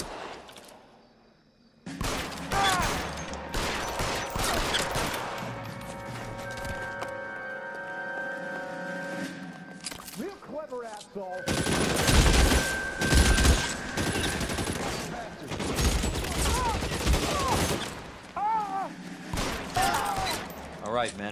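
Rapid gunfire rattles through a shootout in the video game L.A. Noire, with dense volleys of shots, ringing tones and a brief lull before another heavy burst, while people talk over it.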